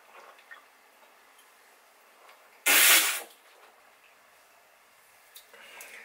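San Pellegrino sparkling water bottle cracked open with one sharp, close hiss of escaping gas lasting about half a second, set against a quiet room with faint small clicks before and after.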